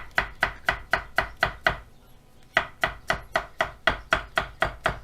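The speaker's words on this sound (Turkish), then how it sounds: "Dış taraflarını şöyle Jülyen doğruyoruz." Knife julienne-cutting the outer parts of green zucchini on a cutting board, a steady run of crisp, evenly spaced chops close by, pausing briefly midway before resuming at the same brisk rhythm.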